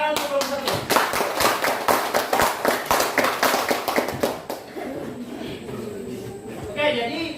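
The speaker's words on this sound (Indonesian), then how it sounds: "Tepuk tangan untuk kelompok" A classroom of students clapping for a group of presenters, a dense burst of hand claps that tapers off after a few seconds, followed by quieter room noise and a spoken voice.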